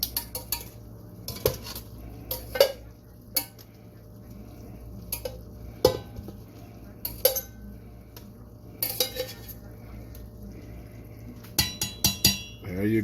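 Chicken pieces tossed with curry in a bowl for Jamaican-style curry chicken, giving scattered close clinks and scrapes of a utensil against the dish with soft wet mixing noises between them.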